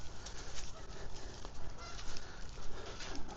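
Geese on the Cedar River honk faintly and repeatedly in the distance over a steady outdoor wash, with no voices.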